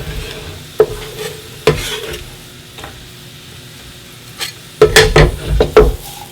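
Onions being stirred into a pan of softened ingredients for a mussel dish, with a few sharp scrapes and clanks of the utensil against the pan over a low sizzle, loudest near the end.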